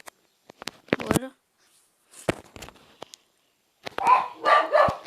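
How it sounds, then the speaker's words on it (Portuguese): Dogs barking in short bursts, sharp yaps near and scattered with pauses between, alongside someone talking. "Vocês estão escutando aí meus cachorros latindo."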